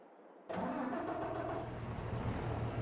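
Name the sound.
tractor engine starting in a farming simulator video game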